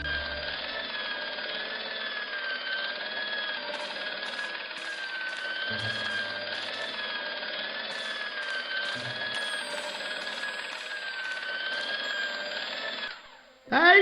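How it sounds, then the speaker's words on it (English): A polishing machine runs in the Broken Sword: Shadow of the Templars Director's Cut adventure game, a steady, moderately loud droning whine with layered tones that holds for about thirteen seconds before abruptly cutting out. "The connector in the socket supplied electricity to the polishing machine."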